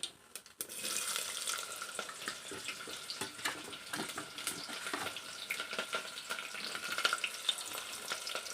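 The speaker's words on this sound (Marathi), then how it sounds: "तेल गरम झालेलं आहे या ठिकाणी मी जिरे मोहरीचा तडका देतो आहे लगेच त्याच्यासोबत हा कांदा टाकतो" Onion hits hot oil with a cumin and mustard seed tempering in a pan, giving a sudden burst of loud sizzling that continues as a steady crackling hiss nearby.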